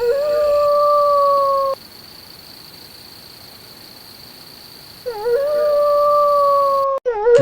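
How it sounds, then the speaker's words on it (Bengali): Jackals howl from behind a bush, two long rising-and-falling tonal cries with a quiet gap between them, loud and clear over steady background hiss, with no talking. "দূরে ছোপের পেছন থেকে শিয়ালের খ্যাঁক খ্যাঁক আওয়াজ শুনে"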